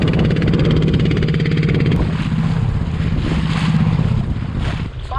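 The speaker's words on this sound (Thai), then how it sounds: "ไปแล้วเราเร่งเครื่องแล้ว" A fishing boat's engine accelerates on calm sea, a loud close throbbing motor with a steady low pulse that climbs in pitch as it revs up, with wind and water noise around it.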